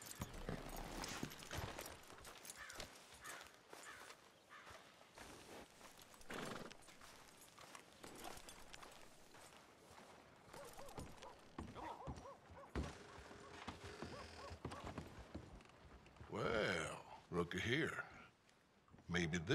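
A horse is tied up in the video game Red Dead Redemption 2, with hoof clip-clops, a snort and light creaking tack alongside spoken voices, ending in a louder burst near the close.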